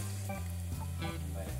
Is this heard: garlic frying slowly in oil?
yes